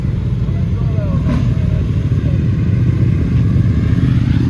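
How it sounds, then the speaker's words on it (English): A loud, continuous engine rumble of motorcycles close by at a car show, with a steady low drone throughout. "All these motorcycles now too."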